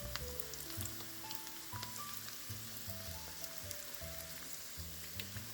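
Zucchini slices fry in a pan for a keto recipe, giving a faint, steady crackling sizzle beneath soft background music.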